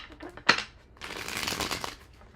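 A deck of tarot cards gets a sharp snap, then a longer riffling shuffle with dense rapid fluttering, heard up close and alone without talking.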